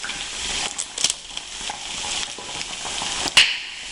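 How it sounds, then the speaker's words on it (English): Steady hissing sizzle of food frying in a deep fryer's hot oil, with a few sharper crackles and pops rising over the continuous bubbling. "I have some others over there that are going in the deep fryer"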